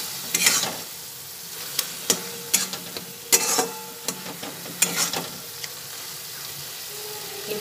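Chhena stirred with spices in a pan, where irregular scraping strokes of a spoon come close and clear over a faint, low sizzle.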